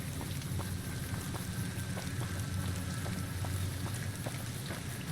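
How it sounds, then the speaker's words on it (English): Rain falls steadily in the Fallout New Vegas video game, a constant soft patter with light drop ticks at a moderate, even level and no talking. "Man, you guys get rain."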